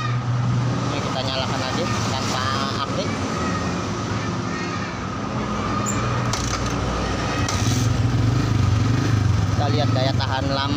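A Yamaha Vixion motorcycle engine idles steadily with no battery fitted, a close, even putter that runs throughout beneath someone talking.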